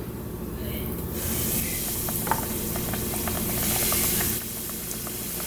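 Shrimp drop into hot frying oil with a sudden loud hiss that builds into a steady, close, bubbling sizzle with scattered pops, then eases near the end.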